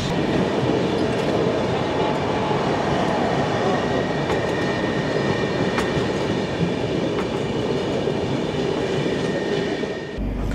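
A long-distance passenger train on the Kolkata to Mathura run rolls past Dhanbad, its steady, loud rumble broken by faint clickety-clack of the wheels and the occasional wheel squeal, with no voices.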